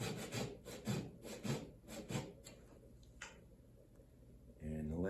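Hand saw cutting a wooden dovetail joint, about five rhythmic back-and-forth rasping strokes close up that trail off, followed by a brief scrape and a voice speaking at the end.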